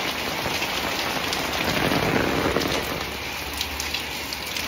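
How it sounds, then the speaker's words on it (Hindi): Heavy rain pours down steadily on surfaces, a dense, loud and continuous hiss close by with no voices. "बारिश अभी भी तेज हो रही है"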